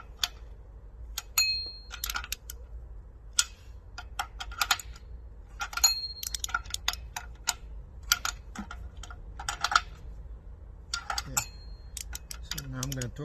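Wrench ratcheting on the cylinder head bolts of a Toyota Previa engine, snugging them evenly before torquing: sharp, quiet clicks in short irregular bursts, close up, with brief pauses between.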